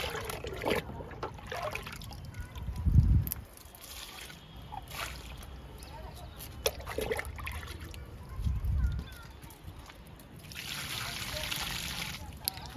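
Liquid fertilizer is poured onto flowering adenium plants, with soft trickling and splashing water, two louder gushes, and a hiss of flow near the end.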